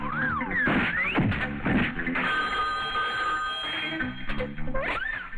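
A telephone bell rings loudly in repeated bursts, close by, with a warbling electronic tone layered over it and no talking.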